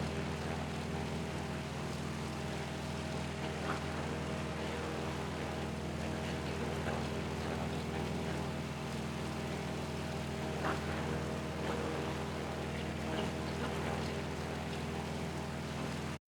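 Steady drone of an IL-10 ground-attack aircraft's piston engine in level flight in the IL-2 Korea combat flight game, a constant, even rumble holding throughout with no talk.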